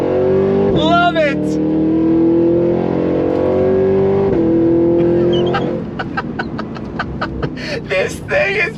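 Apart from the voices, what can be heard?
supercharged Cadillac Escalade-V launch control acceleration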